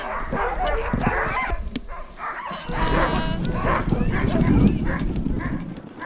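Sled dog puppies at a training session in Norway's Arctic backcountry bark and yip loudly and close by in a busy, overlapping chorus, with some whimpering mixed in and a voice talking among them.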